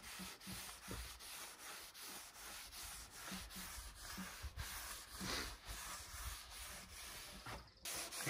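Wood stain is rubbed into cabin floorboards by hand, making a faint, steady scrubbing and rubbing sound in repeated strokes, quiet and close.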